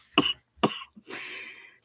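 Two sharp coughs close to the microphone, followed by a raspy exhaled throat sound.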